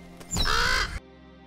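A single crow caws once, a harsh drawn-out call, in a film scene of a boy practising archery at a crow, set against a quiet ambient background.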